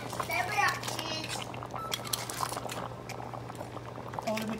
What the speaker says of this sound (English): And let it just boil for another 10 minutes